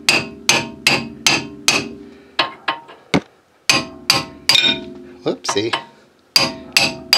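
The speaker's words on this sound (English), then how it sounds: "use a big socket extension and just use that to drive it past the caliper thing and seat it" A hammer strikes a big socket extension to drive a brake caliper part into place on a Chevrolet Vega, sharp metallic blows in quick bursts with brief pauses, loud and close, and a short spoken exclamation between them.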